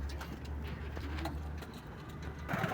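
Pigeons coo in a low, soft, repeated murmur at a close-to-moderate distance, with faint background noise and no voices over them.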